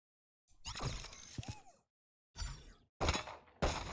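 Killjoy's alarm bot in Valorant is shot and broken. Four separate bursts of shattering, glassy crunching come with short silences between them, and a brief metallic ring shows up in the first burst.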